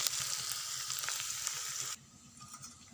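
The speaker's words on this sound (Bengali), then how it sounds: "পেঁয়াজটা কিছুটা লাল হয়ে এসেছে, আর একটু লাল করে ভেজে নেব" Onions fry in a pan with chili powder, salt and garam masala, giving off a close, bright sizzle with faint stirring clicks. The sizzle cuts off abruptly partway through, leaving only quiet background.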